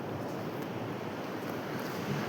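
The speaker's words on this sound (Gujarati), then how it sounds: "આપણે અટાણા દરિયાની અંદર પહોંચી ગયા ને મોજો વધારે છે." Sea waves roll and wash on open water during an early-morning fishing trip, a dense, continuous roar of surf and wind heard from close by.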